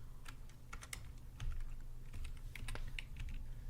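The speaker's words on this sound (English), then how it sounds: "So I'm going to type in density" Keys tapped on a computer keyboard while a density attribute is entered for a smoke simulation, a quiet, irregular run of clicks with a few firmer strikes, no voices.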